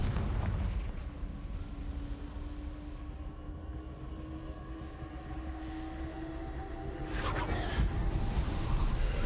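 Rumbling spell blasts from Hogwarts Legacy, Confringo and Bombarda, swell into a dense low roar with a sharper burst toward the end, heavy and continuous, no talking.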